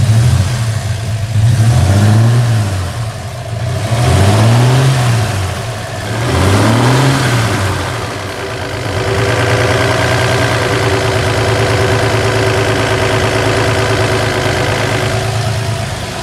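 A six-cylinder engine in a 1966 Chevrolet C10 pickup revs up three times in rising and falling sweeps, then settles into a steady, rough idle, loud and close with no talk.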